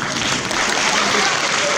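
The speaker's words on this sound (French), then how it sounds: "On peut les applaudir." An audience claps at a youth chess championship prize ceremony in Agen, a dense, steady wash of applause sustained throughout at fairly high level.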